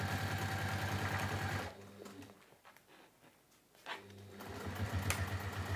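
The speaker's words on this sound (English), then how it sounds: "I'm just checking because it's just sounding slightly different, like my bobbin is about to go." A sewing machine with its bobbin running low stitches at a fast, even rattle, stops for about two seconds, then starts again at the same close, steady pace.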